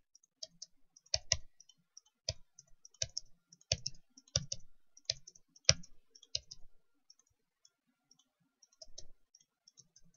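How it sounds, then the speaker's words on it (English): Sharp key clicks from a computer keyboard, likely the delete or backspace key, tapped in irregular bursts of single and double presses, close and fairly quiet with pauses between, no talking. "click in that box and hit delete or backspace."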